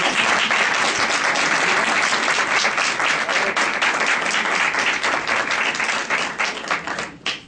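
Sustained audience applause at a forensic psychologists' conference, dense and loud clapping throughout, tapering off slightly at the very end.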